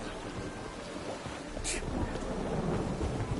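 Steady rain and a low rolling rumble of thunder from the Witcher 3: Wild Hunt video game form a dense, continuous wash that swells slightly in the second half.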